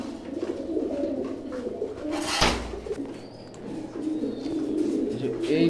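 Pigeons coo softly in a backyard loft where a silver hen and her mate are kept as a pair, low repeated calls running steadily beneath a short rustling burst.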